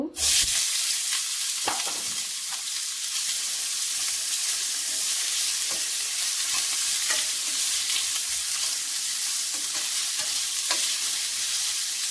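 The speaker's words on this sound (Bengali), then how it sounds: "পেঁয়াজ ভালো করে ভেজে নেব।" Chopped onions frying in oil for an egg biryani, a loud, continuous close-up sizzle and hiss with occasional scraping stirs throughout, no speech.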